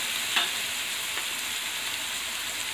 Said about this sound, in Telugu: నెక్స్ట్ ఉల్లిపాయలు వేస్తున్నాను.